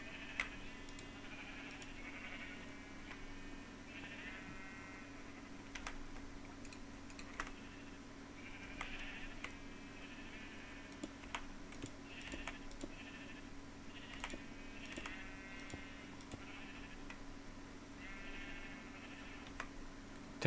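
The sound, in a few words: sheep bleating in a video game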